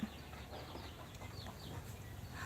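Soft, scattered clucking from backyard native chickens close by, a few short calls over a quiet background hum.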